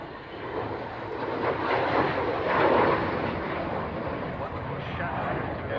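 A fixed-wing aircraft passes over an airfield, a broad roaring engine wash that swells to a peak midway and then slowly fades, heard from the ground at a moderate distance without talk.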